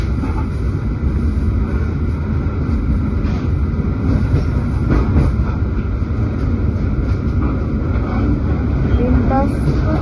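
A steady low rumble and rattle of the Brantas train rolling on rails near Tegal, constant and loud throughout, with wind buffeting the microphone.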